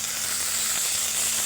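Chopped tomatoes hit hot oil with softened onions in a pan while cooking a ridge gourd dish, giving a steady, close, bright sizzle that stays even throughout.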